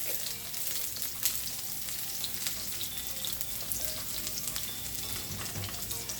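Slivered garlic sizzles in hot oil in a frying pan, a dense, continuous crackling hiss that holds steady at close range with faint occasional clinks and no speech.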